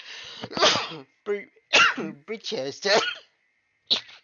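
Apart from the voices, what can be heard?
sneezing fit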